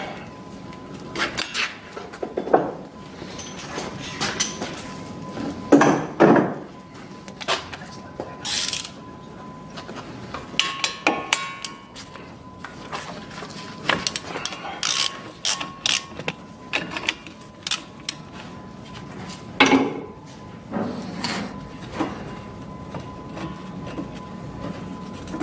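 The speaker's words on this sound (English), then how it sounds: "We're loosening these screws to remove the bracket" Screws on a Dodge Journey rear brake bracket are loosened with a ratchet, producing scattered, fairly quiet mechanical clicks and clanks with irregular gaps, set against workshop background noise.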